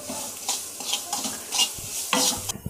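Salt and garlic fry in hot oil for an amla pickle. A utensil stirs and scrapes against the pan in repeated strokes over a continuous close sizzle, and the sound cuts off at the end. No speech.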